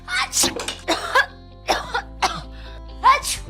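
Several harsh coughs come in quick bursts with brief pauses between them, close and loud, with some throat clearing mixed in.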